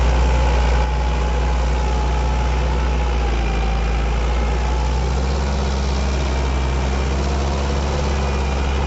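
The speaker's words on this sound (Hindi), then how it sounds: "दोनों लीवर डाउन करने के बाद भी ट्रैक्टर रुक नहीं रहा" A tractor engine runs steadily while pulling a tiller through a field, a continuous low, loud diesel drone with a throbbing idle-like rumble and no pauses, heard alone without voices.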